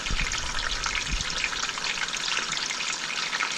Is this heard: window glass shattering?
no